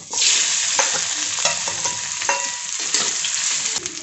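A peeled boiled potato frying in oil in a pan for sabudana khichdi, a bright sizzle punctuated by several sharp spatula scrapes and knocks, close and steady with no voices.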